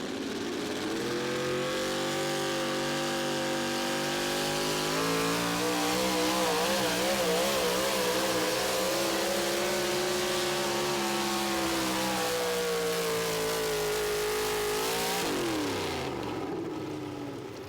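A pulling truck at a Wisconsin truck pull roars at full throttle, a loud sustained engine note climbing and wavering in pitch for about fifteen seconds before cutting off abruptly.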